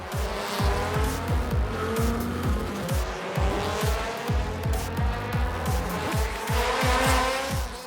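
Rallycross cars roar past at close range at the 2019 Race of Champions in Mexico, engines revving up and down in rapid gear shifts, with tires squealing now and then over a steady crowd-like wash.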